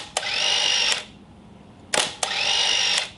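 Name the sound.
Hasselblad 500 EL camera motor drive whirring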